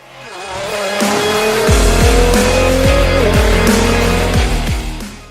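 A Mazda 323F car engine revs loudly and climbs through the rpm range, dropping in pitch at each of several quick gear changes as it accelerates hard, close up with no talk.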